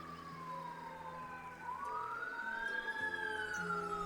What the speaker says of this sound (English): and that is a fire engine,